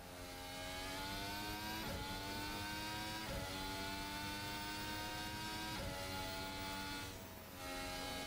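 A 2019 Formula 1 car in the Assetto Corsa racing sim at Spa-Francorchamps, its engine howling loud and steady at high revs with brief dips at gear changes or lifts, no talking.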